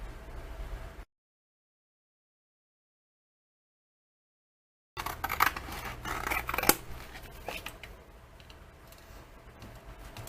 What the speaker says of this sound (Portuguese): Pegando a tesoura e cortando.